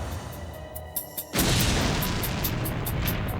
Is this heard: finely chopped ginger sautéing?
no